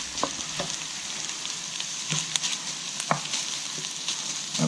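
500 grams of minced beef browns in a pan, a steady close hiss of sizzling fat broken by a few sharp pops and stirring clicks, with no one talking.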